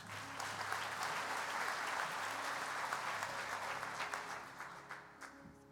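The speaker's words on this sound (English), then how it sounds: "Join me in giving this year's 5-star corporate sponsors a round of applause." Sustained audience applause fills a large convention hall for corporate sponsors at the Kansas FFA Convention, a dense steady wash of many hands that tapers off near the end.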